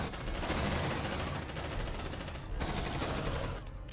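Gunfire in a video game, with a sniper rifle shot among dense, continuous shooting that stays loud throughout and cuts off sharply near the end, with faint voices underneath.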